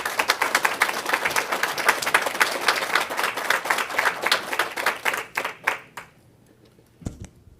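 An audience at a commission meeting claps in a sustained burst of applause. It then thins into a few scattered claps, fades into quiet, and ends with one last isolated clap.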